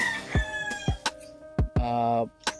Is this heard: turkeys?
yes